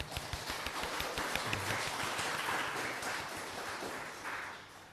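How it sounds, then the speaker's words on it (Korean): A church congregation applauding during a Sunday service to bless a departing exchange student, a steady wash of many hands clapping at moderate volume throughout, tapering slightly toward the end. "우리 박수로 축복하겠습니다"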